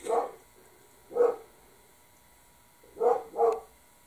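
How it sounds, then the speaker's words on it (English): A dog barks outside, four distant, muffled woofs in an uneven rhythm, the last two close together, heard indoors in a quiet room. "probably there's another dog walking by"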